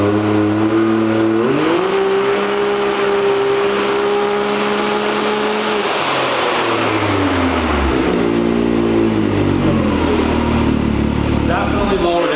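A 2022 Can-Am side-by-side engine fitted with a new OEM belt revs loud and steady, holding high, then winds down and climbs again, droning up close without a break.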